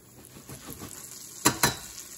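A tablespoon of butter frying in a pan, a soft low sizzle with light patter, then two sharp clacks of utensil against the pan near the end.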